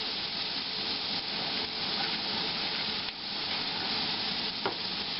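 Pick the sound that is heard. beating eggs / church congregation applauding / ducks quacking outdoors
beating eggs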